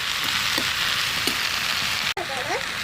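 Spinach greens sautéing in oil in a pan, a steady rain-like crackling sizzle with a few soft pops, a brief break, and faint voice-like sounds at the end.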